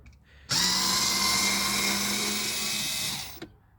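A power driver fitted with a T20 Torx bit backs out a door screw on a 2011 Jaguar XF, a steady high whine running about three seconds close to the mic before stopping.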